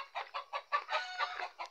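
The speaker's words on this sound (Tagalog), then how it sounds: "Lilima na lang yung manok namin natira." A small backyard flock of chickens clucks in a quick run of short, close bursts, about eight soft calls in a row.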